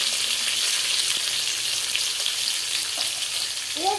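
Chopped onion, tomato, green chilli and bay leaf fry in a pan with a steady, dense sizzle that runs throughout, fairly close and even, with no voices.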